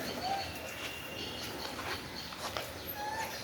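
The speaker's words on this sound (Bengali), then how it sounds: "ডাক দাও কিভাবে ডাক দেয় কবুতর" Pigeons coo softly in an outdoor park, faint and a little distant against quiet ambient background noise.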